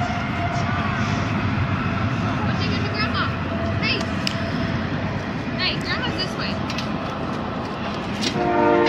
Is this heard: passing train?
yes